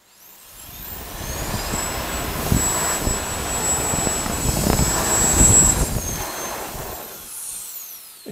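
A compact metal-bodied handheld blower spools up into turbo mode with a loud, jet-like whine and rushing roar that holds steady for several seconds and then winds down, heard close up without speech.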